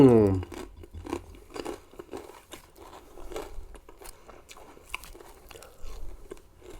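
Loud, close crunching bites of crispy Thai pork rinds (khaep mu), a steady run of sharp crackling chews over several seconds, with a voice speaking at the very start.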